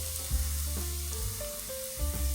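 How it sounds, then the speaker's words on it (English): Flour whisked into a sizzling pan of sautéed beef for a creamy shells dish, a steady close sizzle with a few soft whisk knocks against the pan. "we're going to just whisk that together until it's brown"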